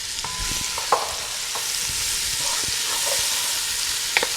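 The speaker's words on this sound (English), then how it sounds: "we're going to go ahead and add in our vegetables. That's the red pepper, the onions, and the jalapeno. You can hear that sizzle." Red pepper, onions and jalapeno sizzle steadily in hot bacon fat, a broad continuous frying hiss with occasional stirring clicks and scrapes, close and fairly loud.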